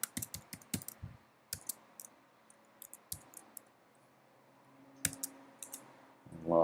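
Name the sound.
typing username and password on a computer keyboard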